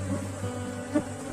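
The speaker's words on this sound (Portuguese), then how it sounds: "Só ajeitar aqui o outro enxame." A swarm of honeybees buzzes steadily at an apiary while a beekeeper settles a colony into a hive box, a soft continuous drone with slight swells, close and fairly quiet.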